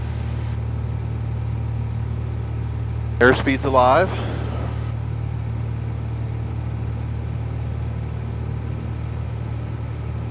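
A Cessna engine at full power on the takeoff roll gives a steady, loud low drone and hum that holds throughout, while a voice briefly speaks over it partway through.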